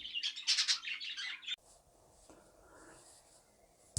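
Young weaned cage birds in show cages give a burst of bright, close chirping and tweeting, then fall quieter with only faint soft sounds after it.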